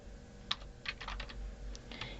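Someone types a short burst of keystrokes on a computer keyboard, the clicks uneven and fairly close, in a quiet room with no talking.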